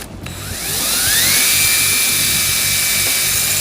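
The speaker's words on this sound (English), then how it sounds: "because I'm drilling, I need to make sure I'm nice and straight" A power drill spins up with a rising whine, then holds a loud, steady high-pitched drilling tone close by, drilling straight down into a DIY subwoofer.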